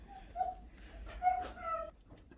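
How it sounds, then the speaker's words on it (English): A sheepdog named Smooth whimpers faintly in the background, giving a few thin, high whines over low rumbling room noise. "Excuse the dogs in the background."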